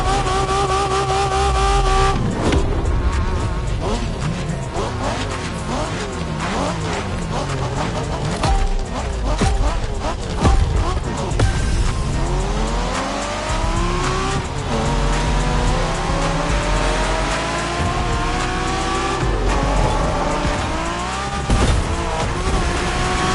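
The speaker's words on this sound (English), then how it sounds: "We're going for some proper Japanese street racing." Racing car engines roar and rev continuously with repeated tire squeals and skids during a Japanese street race in The Crew Motorfest, loud and sustained throughout.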